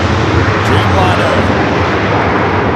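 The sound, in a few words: Boeing 787 Dreamliner starting its takeoff roll at LAX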